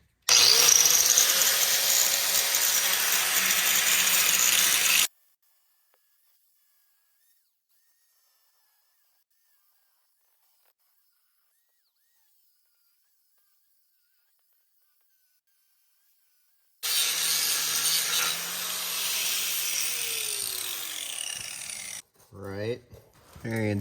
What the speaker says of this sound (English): I got to get this old weld marks off of here. Got my grinder,